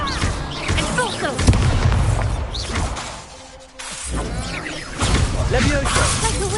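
Explosive spells in Hogwarts Legacy combat go off as booming blasts and whooshing bursts, loud and cluttered, with a brief lull midway before the bangs resume.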